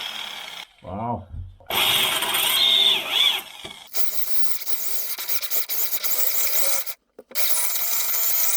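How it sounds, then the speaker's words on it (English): A helicoil drill boring out a broken bolt on a Range Rover L405, a grinding, rasping power-tool whine in bursts with short pauses, close and loud, with a brief voice near the start. "So this is the helicoil drill"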